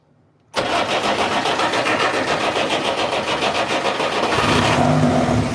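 A boat engine being restarted during a renovation: near silence, then the motor catches abruptly and runs loud and steady at a rough mid-pitched idle with a slight rise near the end, no talk.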